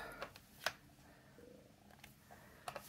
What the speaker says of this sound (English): my stomach just growled really loud. It was not a cat, that was me.